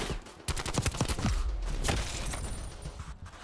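An AK74u with a 40-round magazine fires in Black Ops Cold War: a fast burst of close, sharp gunshots, a few quieter single shots after it, then a softer rattle of game sounds.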